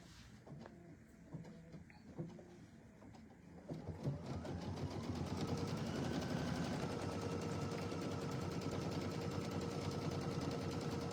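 A sewing machine stitches a tack-down on fabric, starting after a few seconds of quiet handling and then running as a steady fast mechanical whir to the end.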